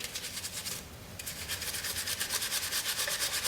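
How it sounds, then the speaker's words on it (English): A soft, soapy brass brush scrubs the top of a Keum-Bo cuff bracelet in quick, steady back-and-forth strokes, a close, hissing rub with a brief pause before the strokes resume. "And now we're just burnishing the top with a soft brass brush that's soapy."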